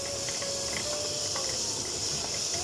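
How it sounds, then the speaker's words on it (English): Chicken stir-fry frying steadily in a pan, a continuous close hiss and crackle with faint sizzling pops throughout, no talking. "Still got that frying noise."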